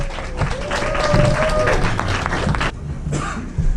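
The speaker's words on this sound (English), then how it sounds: "Let's give it a round of applause" Audience applause at an arts event in a dairy barn exhibit space, a dense crowd of hands clapping with a cough and murmurs, loud at first then dropping off abruptly.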